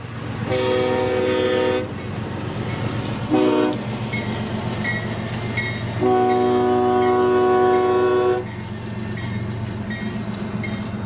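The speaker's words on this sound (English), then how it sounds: "CSX L771 with a lone ES40 heading down the Valrico sub to Bonnie between Ridgewood and Mosaic Bartow" A CSX freight train led by a lone ES40 locomotive passes on the Valrico subdivision near Bartow, Florida, sounding loud sustained horn blasts in several long and short sequences over a steady rumbling engine drone.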